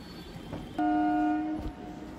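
A local train on the Sealdah to Howrah chord line sounds one loud, steady horn blast lasting under a second, over rumbling rail noise.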